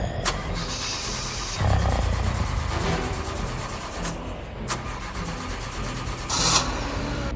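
A car engine starts and the vehicle pulls away, a low rumbling drive sound with a few sharp clicks and bangs over it, fairly close and without speech.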